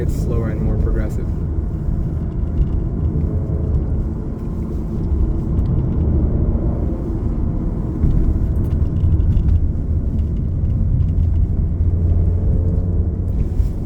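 An Alfa Romeo Giulia sedan laps Blackhawk Farms Raceway in the rain, its engine a steady low in-cabin drone with road and tyre rumble beneath, heard continuously under someone talking.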